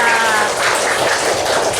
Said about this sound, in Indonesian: Oke, tepuk tangan untuk Rafa.